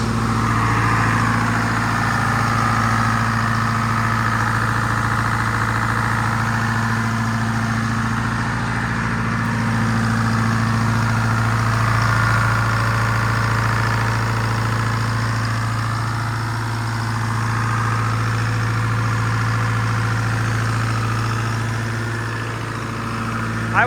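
A Detroit Diesel engine idles steadily after a cold start, having sat unused for a few months; its low, even rumble holds close and loud throughout, with a faint vibration and no talking.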